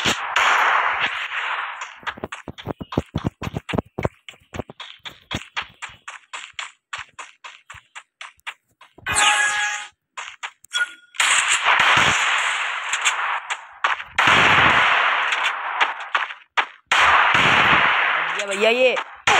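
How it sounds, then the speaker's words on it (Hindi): Desert Eagle pistol fired in a video game, a rapid string of sharp cracks early on followed by louder bursts of gunfire and noisy blasts, close and loud, with gaps of near silence between. "हम चलाएंगे गन सबसे पहले डेजर्ट।"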